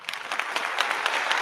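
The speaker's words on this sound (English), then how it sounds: "You've got applause in there and everything" A canned applause sound effect plays on an online coding talk show: a dense, even wash of clapping from a crowd, loud and steady throughout.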